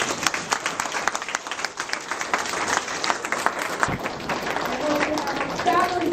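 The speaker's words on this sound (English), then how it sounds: "give yourselves one more round of applause" Audience applause at the close of an event, a continuous dense round of clapping with crowd noise and some voices mixed in, carrying on throughout.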